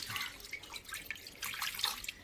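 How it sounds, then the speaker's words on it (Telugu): Water trickles and splashes into a grinder drum for a couple of seconds, a faint, close pour with uneven bursts of splashing. "కొంచెం వాటర్ అయితే వేసుకున్నాను."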